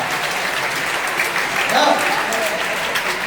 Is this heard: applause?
yes